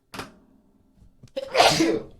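A single sharp sneeze bursts out close up, preceded by a short inhale, in a podcast recording setting.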